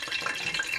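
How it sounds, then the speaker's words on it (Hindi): Olive oil poured into a cooking pan, a short, soft, close liquid trickle with a faint hiss. "ऑलिव ऑयल डाल रही हूँ"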